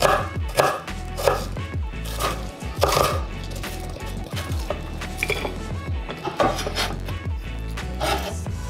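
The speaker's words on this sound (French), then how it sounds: "Coupez-le en deux, puis encore une fois en deux. Et découpez-y à des tranches." A knife chops repeatedly on a cutting board in an uneven rhythm, close and fairly loud, with scraping and rubbing between cuts.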